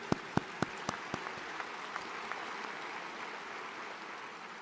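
Audience at a college spring convocation graduation ceremony claps, starting with several sharp loud claps that quickly soften into a faint, thinning patter of applause from a large hall crowd.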